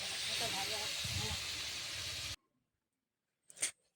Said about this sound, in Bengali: একটু ভাজা হোক মাংসটা।